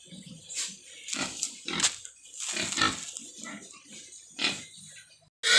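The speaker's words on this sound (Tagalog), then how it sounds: "Ano naman gaganda ng baboy." Pigs grunt and squeal in a series of rough, irregular snorts, close by, with some faint farm background, as livestock is bought and loaded onto a truck.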